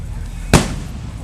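A single loud firework bang bursts sharply against a steady outdoor background murmur, standing out clearly and then fading quickly.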